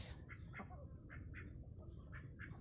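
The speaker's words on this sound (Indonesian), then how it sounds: "Tuh bebek liwat aja nih." A duck passes nearby outdoors, giving a series of short nasal quacks or squawks in a loose rhythm, faint against steady background noise.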